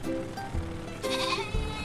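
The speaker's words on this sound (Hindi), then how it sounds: "हे सफेद बकरी। प्यारी बकरी।" Goats bleat up close at a farm petting area, several wavering calls overlapping one another across the short span with no talk.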